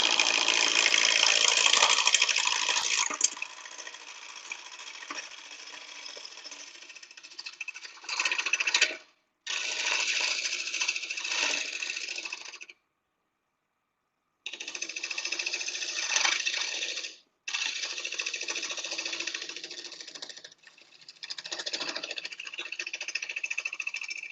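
A steady high-pitched mechanical whir from a wood lathe spinning at about 800 rpm runs continuously with a couple of brief pauses, with occasional scraping as a tool bites into the wood.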